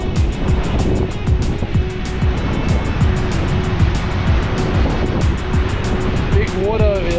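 Ocean waves wash steadily near a fishing spot where a paddle-tail lure on a weedless rig is being fished, a constant rushing surf close by.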